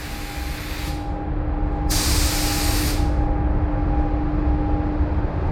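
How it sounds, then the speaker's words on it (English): A continuous loud hiss of a spray gun spraying lacquer on a car body, with the spray briefly cutting out and resuming in bursts over a steady mechanical hum. "spray the lacquer"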